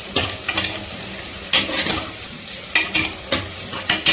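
Onions sauté in a pan for a Tamil-style mutton curry gravy, a continuous sizzle broken by repeated scraping strokes of a spatula stirring at an irregular rhythm, close and fairly loud with no voices.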